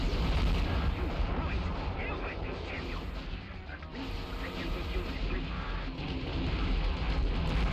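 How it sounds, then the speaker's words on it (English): Heavy, steady weapon fire pounds at the player in the police mech game Future Cop L.A.P.D., a dense mechanical barrage with booming hits running throughout as a voice talks over it. "But I'm being shot at."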